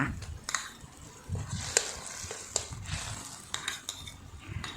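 Red curry paste simmering in a pan with a little water while being stirred, a soft sizzle under repeated spatula scrapes and metallic clinks against the pan, close and moderately quiet.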